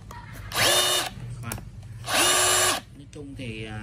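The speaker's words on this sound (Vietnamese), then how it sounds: "SDS thì nó chống rung, đây là đang khoan tường" A DeWalt 273 SDS rotary hammer drill bores into a wall in two loud, close bursts of about half a second each, with its motor whine ramping up and down, and talking between the bursts.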